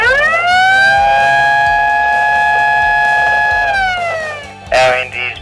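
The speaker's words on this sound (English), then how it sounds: "Sounding the 1 minute blast siren now." A one-minute blast warning siren sounds at a wind farm construction site before a trench blast, a loud steady tone that holds for several seconds and then winds down, followed by a brief burst of another sound at the end.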